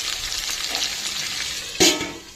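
Chopped vegetables for veggie noodles frying in a pan, a steady close hiss of sizzling oil with stirring, rising into a sudden louder burst near the end before easing off.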